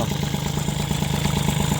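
A motorcycle engine idles moments after starting, a steady, close, mid-pitched throb with a light mechanical clatter and no speech.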